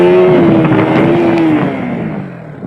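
A motorcycle engine revs loudly and steadily, its pitch wavering as the bike wobbles up on one wheel during a wheelie, then the roar eases slightly toward the end.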